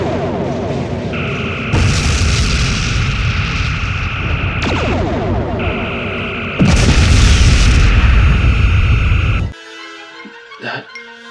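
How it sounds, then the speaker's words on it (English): Phaser and photon torpedo fire strikes an escort ship in a sci-fi space battle. Loud sustained beam tones alternate with heavy booming blasts, then the noise cuts out, leaving scattered faint tones. "Target the escort ship. Phasers and photon torpedoes. Make it go away."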